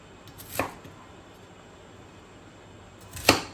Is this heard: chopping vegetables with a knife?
yes